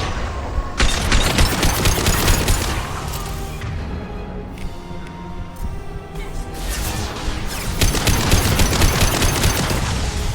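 Heavy gunfire in Mass Effect 2, dense bursts of rapid automatic shots in two long volleys separated by a brief lull, loud and close with booming impacts.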